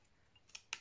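Two short, crisp snips of scissors cutting straight from one poke hole to another, quiet and close, separated by a brief pause with faint room noise.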